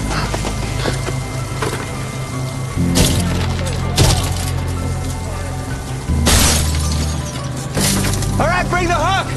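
Repeated heavy hammer blows crack and shatter vehicle glass, with sharp crunching impacts spaced a second or two apart over a steady mechanical hum.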